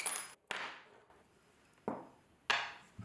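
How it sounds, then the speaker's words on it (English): Hard metallic clanks and knocks ring out close by in four separate hits with short decays while a shelf is fitted onto a Rohde HMT 600 potter's wheel, quiet gaps between each. "I'll now fasten the shelf onto the back of it."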